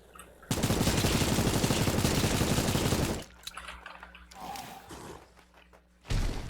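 A submachine gun in the game Night of the Dead fires a loud, sustained burst for about three seconds, followed by quieter thuds and then another short burst at the end.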